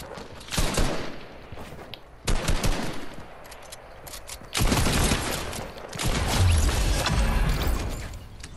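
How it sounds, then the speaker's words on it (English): Gunfire in Fortnite comes in several loud, close bursts of rapid automatic fire with short gaps between them, followed by a longer sustained volley of shots. "Why is everyone trying to shoot at us?"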